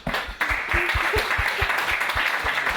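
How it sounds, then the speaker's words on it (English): An audience at a tech conference talk claps warmly for a speaker, a moderate burst of applause with some individually distinct hand claps in an even rhythm, fairly close and steady through the short stretch. "please give a warm round of applause for him"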